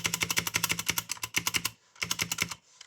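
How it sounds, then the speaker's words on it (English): A friend's mechanical keyboard typed in quick bursts of clacky keystrokes, with a loud, harsh-clicking spacebar among them; close and alone, with a short pause before a final run of keys. "His spacebar sounds unbelievably terrible."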